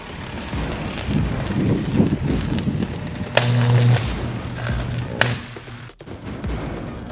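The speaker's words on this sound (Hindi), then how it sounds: "तभी ट्रांसफार्मर में जोरदार धमाका हुआ" A 33 kVA electrical transformer explodes with a sharp, loud boom over a steady roar of wind and crackling fire, followed moments later by a second blast and a brief dropout.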